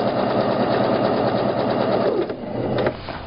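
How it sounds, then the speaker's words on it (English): A sewing machine stitches a tote bag in a steady, close, continuous run, briefly easing off and changing pace near the end as the fabric is steered. "Making sure that you are not sewing the front of the bag together."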